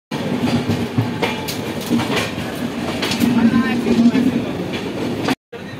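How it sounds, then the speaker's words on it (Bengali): Sealdah–Jammu Humsafar Express passenger train pulling out and running, a steady rumbling clatter of wheels and carriages heard from onboard, loud and continuous with rhythmic clicks, ending in a brief gap. "যথাসময়ে ট্রেন রওনা দিল জম্মুর উদ্দেশ্যে"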